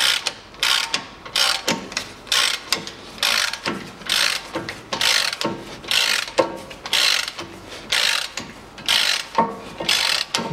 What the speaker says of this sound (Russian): Беру, откручиваю фиксирующий винт, здесь идет Торкс